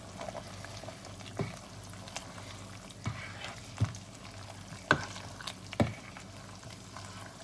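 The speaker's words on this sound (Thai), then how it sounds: "ก็ใส่เห็ดลงไปเลยค่ะเพื่อนๆนี่ค่ะ" Mushrooms go into a pot of simmering Thai chicken tom yum, which bubbles steadily and close by, broken by a few light clinks and splashes as the pot is stirred.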